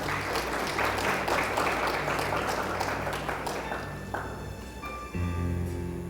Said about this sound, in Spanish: Dele un aplauso más al Señor.